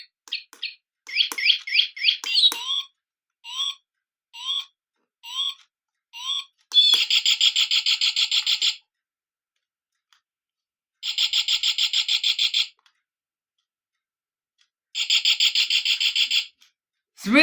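A bird clock plays its chime of recorded bird song: quick repeated chirps and tweets early on, then three longer bursts of rapid warbling song separated by silent pauses, close and clear.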